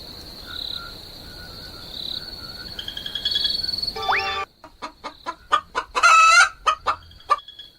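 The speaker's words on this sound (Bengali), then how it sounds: "দাদা, মনে হইতেছে ওইদিকে একটা মুরগি ডাকতাছে" Chicken clucks ring out at night over a steady chorus of frogs and crickets, first as sustained calls, then as a series of sharp, loud, repeated squawks after a brief quiet gap.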